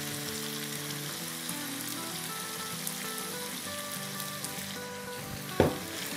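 Green chillies and yogurt sizzle steadily in a keema karahi of minced meat. The frying hiss is continuous and close, with a single sharp clink of a utensil near the end.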